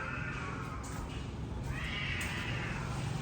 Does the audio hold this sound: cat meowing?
yes